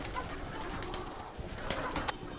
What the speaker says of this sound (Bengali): এগুলি কবুতর।